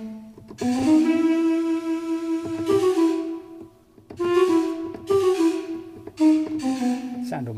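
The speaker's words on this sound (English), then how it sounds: "Sound almost like pan pipes like that." CineWinds Pro woodwind sample library notes with a breathy, pan pipe–like tone, played as a series of sustained pitches separated by short gaps, clear and close, with no talk.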